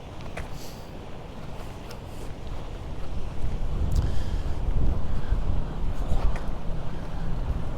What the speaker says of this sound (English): Really is blustery.